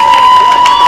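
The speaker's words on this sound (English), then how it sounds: "Give him a nice round of applause" Brief burst of crowd noise at a junior livestock show, with cheering and clapping from spectators over a steady high tone, loud and close.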